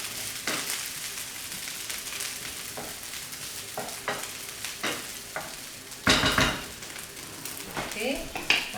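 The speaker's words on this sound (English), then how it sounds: "rice has been frying for a couple of minutes, then you can add the egg." Rice for egg fried rice sizzles in oil in a frying pan, a continuous crackling fry with scattered scrapes and stirring clatter, louder stirring bursts near the end.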